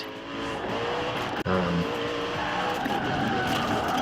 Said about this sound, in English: drifting around those two cars